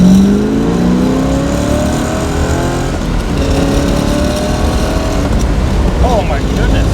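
A 1963 Corvette convertible with a 327 engine accelerates hard on the road, its revs climbing through the gears in a loud, close roar, with brief shifts between the pulls and the occupants talking over the engine.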